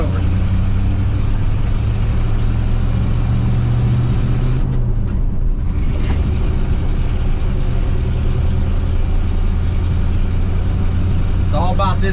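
An old car engine rumbles steadily while driving and shifting gears, a loud, continuous low drone mixed with road and cabin noise, with a brief dip partway through.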